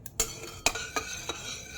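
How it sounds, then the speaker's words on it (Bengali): Khichuri being stirred in a pot with cumin added, a spoon scraping and clinking against the metal in a few distinct strokes, close and fairly quiet with no talk. "এখন একটু নাড়াতে লাগবে।"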